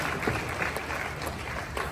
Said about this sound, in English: A round of applause for His Majesty.